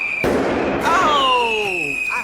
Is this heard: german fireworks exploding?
yes